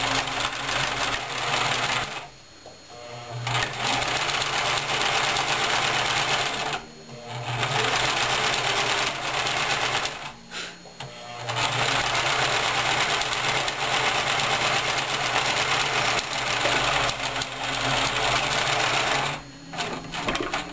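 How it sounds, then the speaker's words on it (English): A sewing machine runs loud and close through sweater fabric for handwarmers, a long stretch of rapid, steady clattering stitching broken by a few short pauses. "sewing sweater stuff is kind of annoying"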